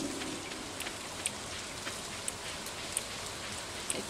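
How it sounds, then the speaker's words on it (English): Steady rain pattering in the video game Stardew Valley, a constant hiss of drops with a few sharper ticks scattered through, heard alone without talking. "Still very rainy outside."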